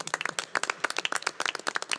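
A round of applause at a school board meeting, a dense burst of many hands clapping fast and fairly close, with no speech over it.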